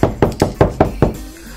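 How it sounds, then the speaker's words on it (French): Six crisp knocks on a door, evenly spaced at a quick steady rhythm, close and fairly loud, with no talking. "le chat frappe à la porte"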